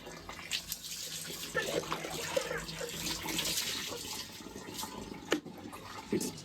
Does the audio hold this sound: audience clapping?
no